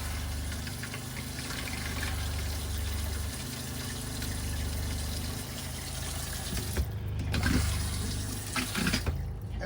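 Water runs steadily from an RV sink faucet, a continuous hissing stream with a low pump-like hum underneath, growing briefly louder and more splashy near the end, with no talk.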